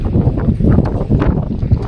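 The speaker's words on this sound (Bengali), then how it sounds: "আর দেখছো কি সুন্দর হাওয়া দিচ্ছে" Wind gusts across a microphone at a bridge on a mountain bike route in Sikkim, a loud buffeting rumble that swells and dips in short bursts.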